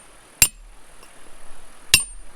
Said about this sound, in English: you can give a little score mark where you want the crack to start